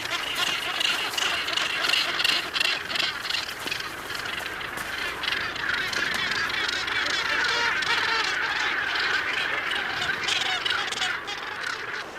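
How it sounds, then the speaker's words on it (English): Gannets at a crowded, windswept nesting colony on the British Isles coast keep up a dense, continuous din of harsh, overlapping calls, loud and near, with no voices. "returning birds must run the gauntlet of their hostile neighbors before they can reach the safety of their"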